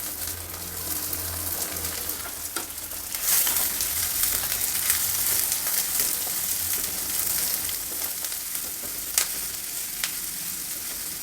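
Onions and peas frying in a pan with curry leaves and green chillies for avalakki, a loud, steady sizzle with bright crackling and occasional stirring scrapes throughout.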